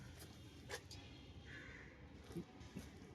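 Crows caw near scattered food left out for a stray animal, a few short harsh calls at moderate distance over faint outdoor background noise.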